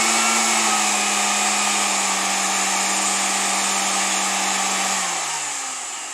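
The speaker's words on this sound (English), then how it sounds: "You don't got to have this vacuum going, screaming your ears out." A DIY bee vacuum motor on a speed controller runs with a loud, steady whine and hum, then winds down in pitch as it slows near the end.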